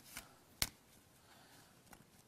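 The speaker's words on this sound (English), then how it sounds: "Do you want to give them a little bit of a shuffle for me?" A deck of playing cards being shuffled nearby, heard as a few faint, brief riffling clicks in an otherwise quiet room.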